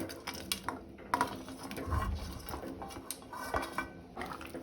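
A spoon stirs peas paneer pulao inside a pressure cooker, giving quiet, irregular metallic scrapes and clinks against the pot with soft liquid sloshing in between.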